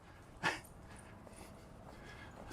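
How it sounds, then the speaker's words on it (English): A dog on a walk through Loose Park in Kansas City makes a single short, sharp yelp or bark at mid-distance over steady outdoor background noise. "You notice I'm always correcting a certain dog."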